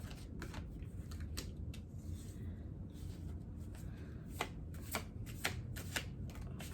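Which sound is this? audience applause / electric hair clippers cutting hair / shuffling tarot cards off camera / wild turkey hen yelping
shuffling tarot cards off camera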